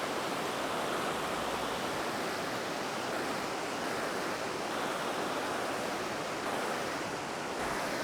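Steady rushing water from river rapids spilling into cool pools in the New Zealand backcountry, a broad continuous roar that holds even for the full stretch with no voices.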